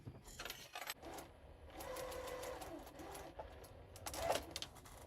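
A sewing machine stitching a foundation paper pieced bunny quilt block, running in short bursts of rapid mechanical rattling with brief pauses between, close and clear.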